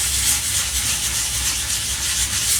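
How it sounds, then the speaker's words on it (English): Light hand sanding on a freshly glued balsa joint of a scratch-built Flite Streak model airplane, a steady close rubbing hiss that continues evenly without pause. "before it's totally dry, you just sand lightly"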